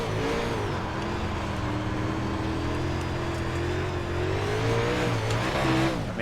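Race car on a dirt oval in iRacing, engine droning loud and steady with rising and falling revs through the turns, close and unbroken, no voices.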